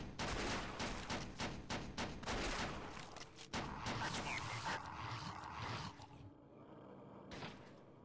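Rapid automatic gunfire from the Flash shooter SAS: Zombie Assault, bursts of dense crackling shots filling the first six seconds, then tapering to sparser shots and a low roar near the end.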